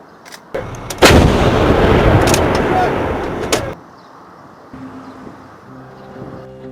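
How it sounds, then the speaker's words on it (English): A heavy artillery blast from the war in Sudan, followed by a long, loud roaring rumble with sharp gunfire cracks, then it cuts to quieter background with a faint tonal hum. "no voice is louder than the sound of guns and cannons"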